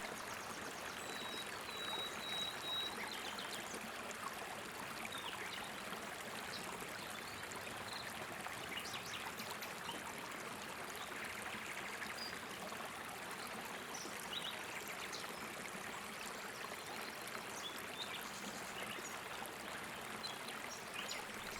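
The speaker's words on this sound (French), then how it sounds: "Regardez l'eau plus calme dans ces zones de petits barrages. Regardez-la glisser par les côtés." River stream flowing past small dams, calmer water slipping around the sides, a steady, even rushing and trickling that holds unbroken throughout, moderately close, with faint birdsong above it and no voices.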